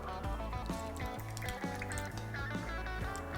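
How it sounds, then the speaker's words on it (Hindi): Soaking water drained off fennel seeds in a kitchen, a continuous liquid pouring and trickling sound under background music. "सौंफ का पहले पानी निकाल दें।"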